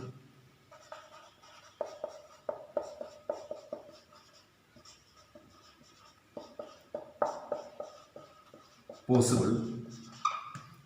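Marker or chalk writing on a board during a Class 10 maths lesson on matrix multiplication, a long series of short scratchy strokes in uneven bursts, close, with a teacher talking over parts of it.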